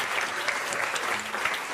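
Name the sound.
audience applause at a town hall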